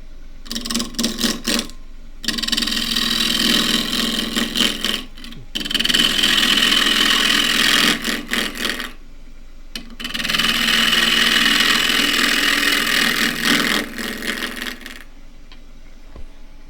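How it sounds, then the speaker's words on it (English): A wood lathe spins a rectangular bowl blank while a 1/2-inch spindle gouge with a 3/8 flute roughs it down, making loud, intermittent bursts of rattling, chattering cutting noise separated by short pauses. "So as usual, roughing down with a 1/2 inch spindle gouge."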